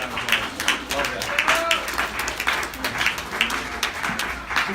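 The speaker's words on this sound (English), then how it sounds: "Let's give her one more round of applause." Audience applause after a performance, scattered rhythmic clapping at moderate distance with voices mixed in throughout.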